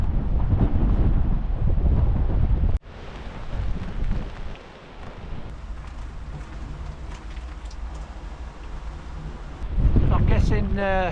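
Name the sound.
wind blowing on a Scottish island (Tiree)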